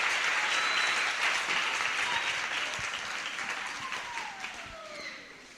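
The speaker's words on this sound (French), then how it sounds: "Applaudissez pour Samuel" Children at an online church gathering clap for someone, a dense burst of applause that is strongest at the start and gradually thins and fades over a few seconds.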